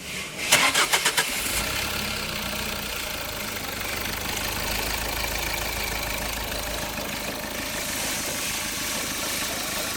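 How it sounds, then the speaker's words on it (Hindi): A Mahindra Marazzo or Tata Nexon, just repaired for a wiring fault, cranks briefly and catches, then settles into a steady, close-up idle with a low rumble that runs the whole time. "अब करते हैं गाड़ी को स्टार्ट, देखते हैं"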